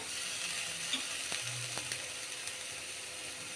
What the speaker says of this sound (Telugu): ఇప్పుడు దీంట్లో అల్లం ఎల్లిగడ్డ ఇద్దామండి